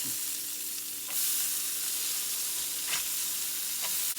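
Burger patties sear on a hot griddle for an Oklahoma fried onion burger, giving a steady, loud broadband sizzle with a few brief scraping clicks of a spatula, and no voices.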